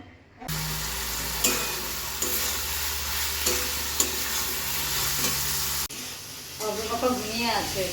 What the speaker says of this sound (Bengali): খেয়ে উঠে চিলি পনিরটা বানাতে চলে আসলাম